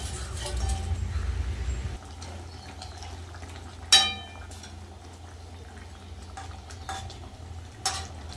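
Amudi fish pieces go into a pan of boiling oily, spicy fish curry, with low bubbling and sizzling, a burst of stirring at the start, and sharp clinks of a utensil against the pan, close and without speech.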